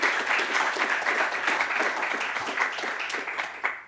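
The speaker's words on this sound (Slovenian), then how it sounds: "Lahko damo en aplavz za Barbaro." An audience at an award ceremony for Slovenians abroad applauds a prize winner, a dense, steady burst of many hands clapping that carries on for about four seconds before tapering off.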